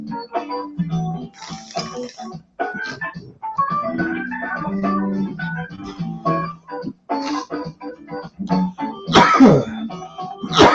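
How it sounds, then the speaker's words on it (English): Several coughs and throat-clearing bursts break out in irregular fits, close and loud, with short pauses between them. "Don't mind that cough."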